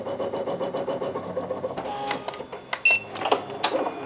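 Ricoma EM1010 embroidery machine stitching a baby-shirt logo with a magnetic hoop, a fast rhythmic needle patter nearby that slows and breaks into clicks and clacks partway through.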